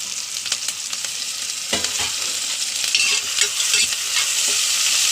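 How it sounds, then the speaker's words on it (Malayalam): Onions frying in a pan with garlic, green chili, ginger and curry leaves added, a steady close sizzle with intermittent stirring scrapes throughout. "അപ്പോൾ വെളുത്തുള്ളി, പച്ചമുളക്, വേപ്പിൻ്റെ ഇല, ഇഞ്ചി, മല്ലിയില എല്ലാം കൂടി ഇടുന്നു."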